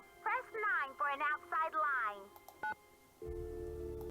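Telephone keypad tones beep in a quick series of separate presses in the Nancy Drew: Secret of the Scarlet Hand game, followed by a short pause and a steady dial tone, with no talk.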